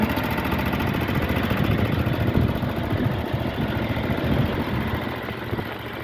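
A John Deere Z-Trak 920M commercial zero-turn mower with a 60-inch deck runs close by, giving a steady, even engine drone with a low rumble and no pauses.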